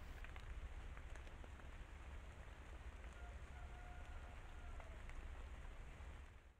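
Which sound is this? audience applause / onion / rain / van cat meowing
rain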